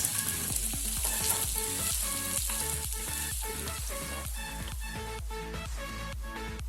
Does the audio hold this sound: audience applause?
no